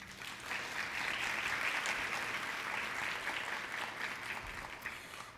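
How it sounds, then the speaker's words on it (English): An audience applauds at a Black History oratorical competition, a steady, moderately quiet wash of clapping that swells briefly and tapers slightly toward the end, with no voices. "You can give them a round of applause."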